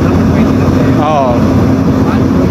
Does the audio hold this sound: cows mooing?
no